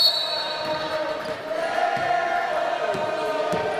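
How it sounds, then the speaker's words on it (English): Crowd noise from the stands at a women's university basketball game, voices singing and calling out coaching in a steady, echoing indoor din with faint ball bounces and squeaks underneath. "So as you can hear from the sound of the crowd"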